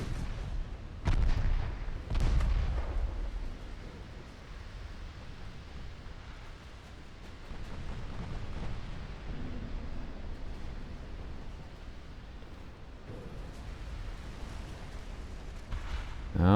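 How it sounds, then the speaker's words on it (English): Cruisers and battleships trade naval gunfire in the naval warfare game Ultimate Admiral Dreadnoughts. Deep booming salvos come early, then a continuous rumbling roar of distant shots and shell impacts sits beneath occasional talk. "the cruisers have already spread out their fire pretty good"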